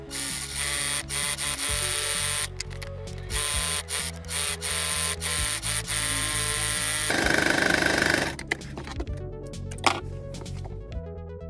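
Sewing machine top-stitching a denim belt for a crossbody cylinder handbag, a steady mechanical whir running in stretches with brief stops and restarts, close and fairly loud with no talk.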